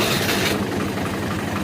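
A vehicle engine in gear-free idle start, a loud, close, steady rumbling drone with rhythmic low pulsing throughout, no voices.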